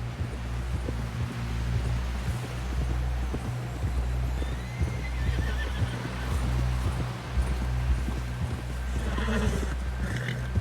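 Hooves pound in a steady galloping rhythm with a horse whinnying and wind rushing past in Red Dead Redemption 2, a continuous, close ride with no talking.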